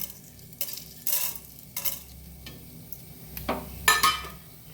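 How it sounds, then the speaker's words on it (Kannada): Chana dal and urad dal fry in about two spoons of hot oil over a medium flame for chutney. A soft, steady sizzle is broken by several sharp scraping and clinking stirs of a utensil in the pan. "ಇನ್ನು ಕೇವಲ ಕಡಲೆಬೇಳೆ ಮತ್ತು ಉದ್ದಿನ ಬೇಳೆಯನ್ನು ಹದ ಉರಿಯಲ್ಲಿ ಫ್ರೈ ಮಾಡಿಕೊಳ್ಬೇಕು"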